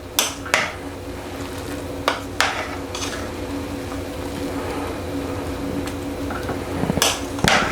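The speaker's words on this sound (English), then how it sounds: "put the lid back on." Metal lid set back on a pot of bulk Thai chicken yellow curry, several sharp clanks and clatters spaced through the clip over a low cooking hum, with a final cluster of rattles.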